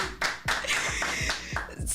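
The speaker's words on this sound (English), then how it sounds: "I feel like I need a clap. A clap from the studio, please." Hand claps in a radio studio, a handful of sharp separate claps at an uneven, loose rhythm, close and fairly loud, with no talk over them.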